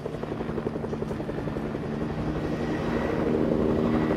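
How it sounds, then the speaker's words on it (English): Helicopter rotor thumping steadily as it flies in the Fortnite video game, a continuous beating drone that grows slightly louder over the few seconds, with no talk over it. "There's a helicopter."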